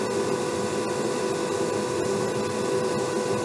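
An electric motor spins at high speed during a series runaway test at 60 volts, giving a loud, constant whine and whirr with no pauses or voices over the brief stretch.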